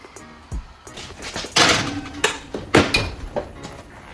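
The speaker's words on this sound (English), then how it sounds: "We're gonna add these to the oven." A baking tray of Texas toast slid into a home oven, with a low thump, then metallic clanks and scrapes of the pan and oven rack, a few sharp knocks spaced across a few seconds, close and fairly loud.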